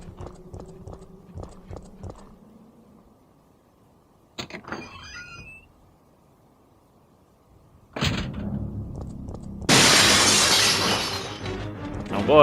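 Enemies crash through glass windows in Resident Evil 3: Nemesis, a loud shattering burst of breaking glass after quiet footsteps and a door, ending in a sustained bright smash.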